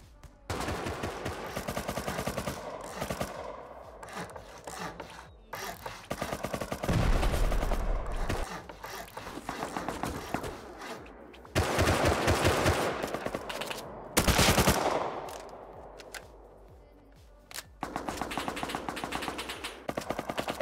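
Rapid gunfire bursts from the video game Rust during a Bedwars match, automatic weapon volleys crackling in clusters separated by brief lulls, with loud sharp bursts near the middle and end.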